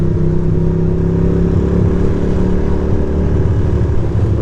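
A motorcycle cruises through Williamsburg, Brooklyn on the way to a Cars and Coffee meet, its engine a steady, close, loud droning hum with a low throbbing pulse that holds throughout without any pause.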